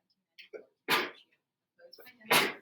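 Two sharp sneezes burst out a second or so apart, close and abrupt, with brief speech fragments between them.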